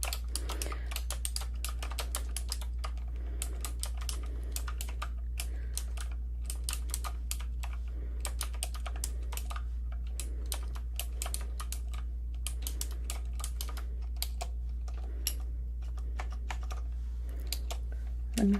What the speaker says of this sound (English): it's a gamer keyboard and it's so loud